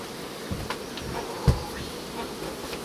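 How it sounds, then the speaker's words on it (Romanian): Honeybees buzz steadily around a hive that has lost its queen, a dense close hum with a few louder knocks and handling clicks. "mai multe albinuțe o să sară pe mine"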